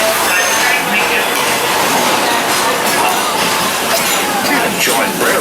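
The Walt Disney World Railroad train in the Magic Kingdom rolls along loudly and steadily, with dense rattling and clinking noise throughout.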